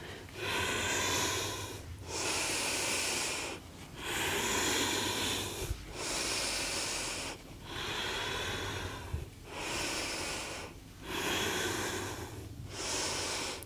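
Slow, deep breaths during a yoga flow, each forceful exhale and inhale audible up close in a steady rhythm of about seven cycles, with short quiet gaps between them.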